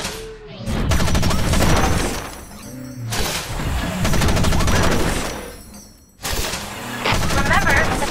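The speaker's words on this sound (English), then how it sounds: "Remember to fire your machine gun in bursts." Mech machine gun fire from Front Mission Evolved comes in three loud rattling bursts, each lasting a couple of seconds and separated by short pauses.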